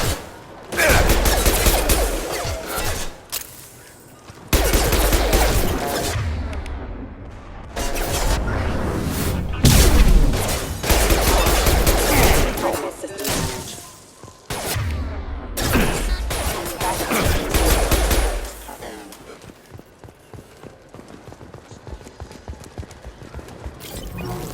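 Bursts of gunfire from the video game Mass Effect 2, loud and dense in several long volleys separated by brief gaps, mixed with other game sounds and tapering to a quieter rattling stretch near the end.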